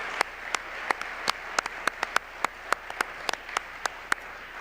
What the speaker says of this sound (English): Let's give another round of applause to Heralds of Hope Theater.